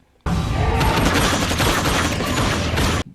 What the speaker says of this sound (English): But Graves shows up doing some more underworld shooting at everybody.